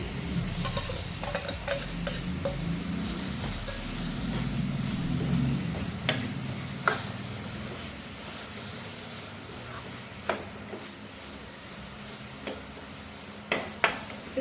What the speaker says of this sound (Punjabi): ਪੰਜ 6 ਮਿੰਟ ਹੋ ਗਏ ਸੀ ਮੈਨੂੰ ਪਿਆਜ਼ ਭੁੰਨਦਿਆਂ ਨੂੰ ਤੇ ਹੁਣ ਮੈਂ ਪਾ ਦਵਾਂਗੀ ਕਰੇਲਿਆਂ ਦੇ ਬੀਜ